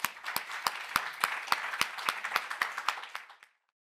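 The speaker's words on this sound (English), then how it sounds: "I'd like to give them a round of applause." A small audience at a panel session on social prescribing claps for the speakers, a sparse round of distinct, evenly spaced hand claps at moderate loudness that stops abruptly after about three and a half seconds.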